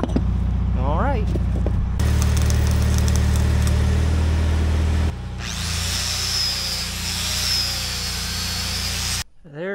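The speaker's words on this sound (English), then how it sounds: "I'm gonna hit the other side of the step bit real quick too, just to kind of deburr that." A power drill spins a step drill bit to deburr a freshly drilled hole in steel for a backhoe thumb build, with a loud whirring run, brief stops and a shift in pitch as the bit grinds.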